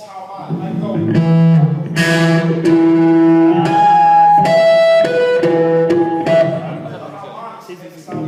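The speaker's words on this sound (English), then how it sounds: "I'll play the false harmonic." Several bass notes plucked in a slow melodic line as false harmonics, each carrying bright, high-pitched harmonic tones that ring clearly above the low fundamental.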